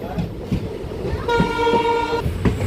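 A train pulls into Ambari Falakata station, its rumbling cars joined midway by a loud, sustained horn blast lasting about a second before it cuts off amid continuing rail noise.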